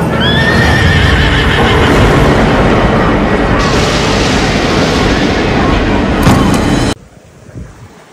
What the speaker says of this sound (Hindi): घोड़ा चेक करो